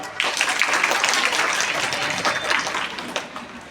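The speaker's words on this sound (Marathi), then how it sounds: "टाळ्या माझ्या जोरात" Audience at a police anniversary prize-giving ceremony claps loudly and steadily for a student receiving a trophy and certificate, a dense, sustained applause from start to end with no speech over it.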